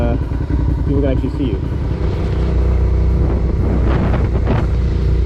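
Motorcycle engine drones steadily while riding on the road, with wind buffeting the microphone and a rider talking over the continuous rumble.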